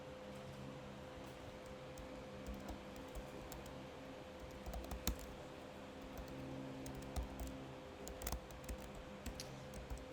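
Sparse, light clicks of computer keyboard typing in a quiet room, irregular keystrokes scattered over ten seconds above a steady low hum.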